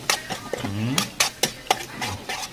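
Corned beef is stirred in a pan, with sharp spoon-on-metal clacks and scraping at an irregular rhythm over a soft sizzle, close by, with a brief low vocal sound in between.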